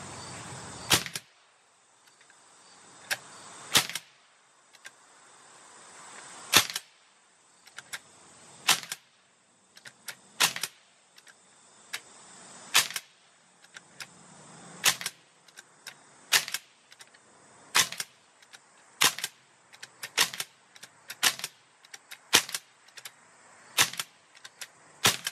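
A Sig MCX airgun fires through a magazine of about fourteen pellets, sharp snapping shots in an irregular series, some spaced out and others coming in quicker bursts, over a faint background hiss.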